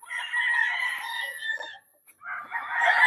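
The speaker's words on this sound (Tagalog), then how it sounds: "So ito, Bruce Barnett din natin na candidate natin for stag breeding." A Bruce Barnett gamefowl rooster crows nearby, one drawn-out crow and then a second call after a brief pause.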